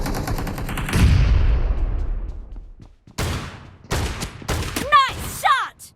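M1014 shotgun blasts in PUBG Mobile during a team match, a heavy boom with a long decaying tail followed by several sharper shots and clattering bursts, loud and near amid game effects.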